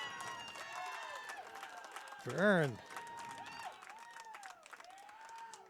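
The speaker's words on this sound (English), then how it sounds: "as the Lake Stevens fans applaud" Lake Stevens fans applaud at a high school baseball game at Jackson, a steady crowd clapping wash sitting under a play-by-play announcer's voice, with a brief louder burst in the middle.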